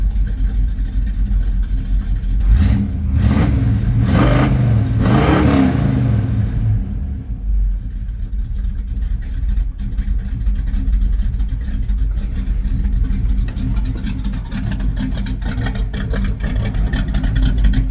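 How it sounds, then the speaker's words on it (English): A 1987 Chevy K5 Blazer's cold engine, unused for about a week, runs loud and close with a few rising revs early on, then settles into a steady rumbling idle. "I'll let it run till it warms up anyway. I need to. It hasn't run in like a week"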